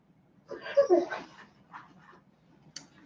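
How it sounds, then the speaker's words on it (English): A dog whimpers and whines close by, wanting to be let outside, in a short burst of high, wavering cries followed by a few fainter whines and a brief sharp yip at the end. "And I got a dog that needs out again."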